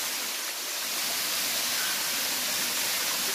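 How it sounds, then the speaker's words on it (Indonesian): Steady broadband rush of the Pangkung Sinangkao waterfall in Lumbung Kauh village, Tabanan, Bali, heard alone and fairly close, a constant hiss-like roar without pauses despite the low water flow. "Kita bisa melihat air terjunnya seperti ini."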